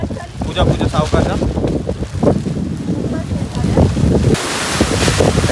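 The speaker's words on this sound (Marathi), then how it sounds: "खूप जोरात पाऊस चालू झाला" Heavy rain begins pouring outdoors by a waterfall, a loud, dense roar of falling water mixed with wind buffeting the microphone, steady throughout with faint voices underneath.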